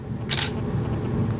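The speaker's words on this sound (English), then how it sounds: "What you're hearing is the mirror flipping up." A single quick mechanical clack of a DSLR camera mirror flipping up, close and crisp, over a low steady room hum.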